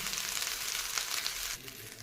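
Leftover rice is being mixed and fried in a pan, giving a steady, close hiss of sizzling that eases slightly toward the end, quiet and alone.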